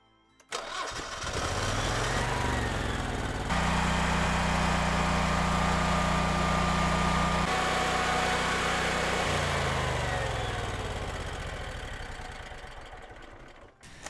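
Generac 17,500 watt backup generator starting up and running, a loud, steady close engine drone with a shift in pitch partway through before it winds down at the end.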